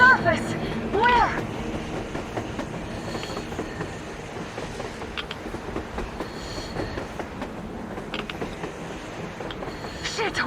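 A train in the game Metro Exodus rolls on rails on the surface, a rumbling mechanical run with squealing wheels and clanking, heard under excited voices talking.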